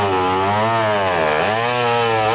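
A chainsaw cuts through trees downed by a tornado, its loud, buzzing engine revving steadily close by and dipping briefly under load before climbing again, with no talk.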